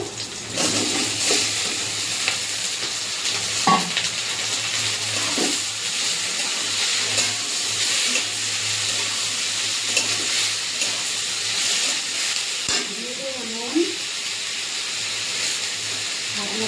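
Steady frying sizzle and hiss from a pan, close by, as steamed taro stolons fry with onions, with occasional stirring scrapes and clinks over the continuous crackle.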